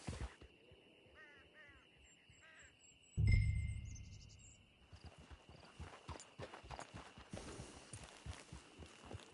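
Horse hooves clip-clop in the video game Red Dead Online, with a heavy thud partway through and then a steady run of close hoof beats over quiet background ambience.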